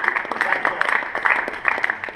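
An audience applauds a recipient at a touchtennis awards event, producing a short, steady patter of many hands clapping at moderate volume.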